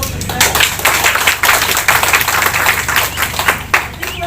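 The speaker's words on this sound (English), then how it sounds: "So a round of applause for Shweta." Audience at an education program event clapping for a presenter, dense, loud applause with many sharp individual claps, sustained throughout.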